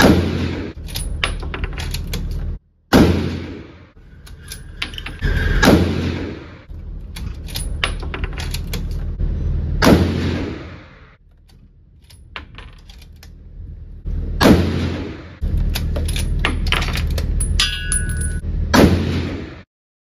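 Mossberg Patriot .30-06 rifle fired outdoors at a range: several sharp, loud single reports spaced seconds apart, each followed by a ringing decay and brief handling clatter between shots.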